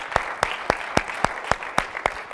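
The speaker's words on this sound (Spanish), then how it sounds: "Denle un fuerte aplauso a nuestro Dios." A church congregation claps in a steady, evenly spaced rhythm, with sharp hand claps repeating about every quarter second, loud and close throughout.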